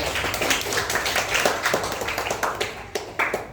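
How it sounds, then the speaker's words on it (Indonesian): A group clapping together, a dense patter of overlapping hand claps lasting a few seconds at steady loudness. "tepuk tangan dulu"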